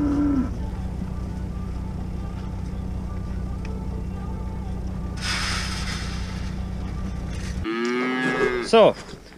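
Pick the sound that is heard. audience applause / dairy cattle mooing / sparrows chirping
dairy cattle mooing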